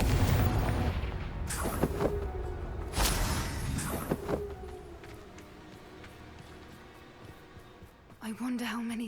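A Confringo fire spell going off in Hogwarts Legacy, a few sharp booming bursts early on amid busy game sounds, fading into quieter ambience, with a voice briefly heard near the end.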